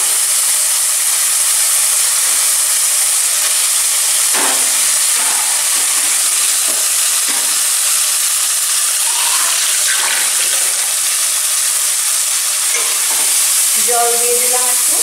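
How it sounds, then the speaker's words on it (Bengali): Koi fish fry in spice masala in a wok, giving a loud, steady hiss and sizzle that runs throughout. Occasional scrapes and clinks of stirring sound up close. "এতে এবার আমি মাছগুলো দিয়ে দিলাম।"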